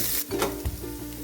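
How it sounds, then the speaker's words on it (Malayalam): Cooked rice tipped into hot ghee in a kadai sets off a close, crackling sizzle, broken by a couple of soft thuds and scrapes as it lands and is stirred. "ഒരു ലെയർ റൈസ് നമ്മൾ കടായിലേക്ക് ഇട്ടു."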